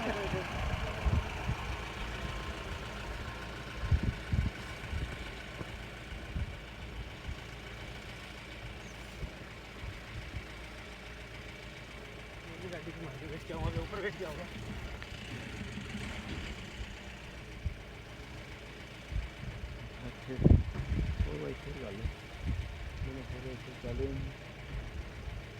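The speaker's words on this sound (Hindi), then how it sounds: "गाड़ी अपने आप आ रही है।" An off-road car drives across the Rajasthan sand dunes, its engine a low steady idle with occasional revs and bumps, moderately distant, while people talk throughout.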